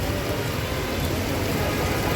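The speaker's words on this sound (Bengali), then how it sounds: "বৃষ্টি হচ্ছে" Steady rain pouring under a darkened sky, a continuous broadband hiss of drops close by, even and unbroken throughout.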